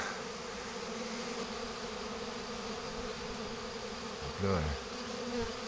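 A honey bee swarm hums as it moves into a frameless divisible Layens hive, a dense steady drone close by, with a brief spoken French phrase near the end.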